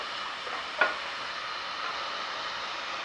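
Food sizzles in a very hot pan with a steady, even hiss, broken by one small clink early on, with no voices.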